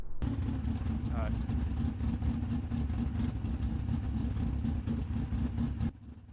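A sprint car engine in the racing simulator iRacing drones loudly and steadily with slight revving, running almost continuously before dropping off sharply near the end.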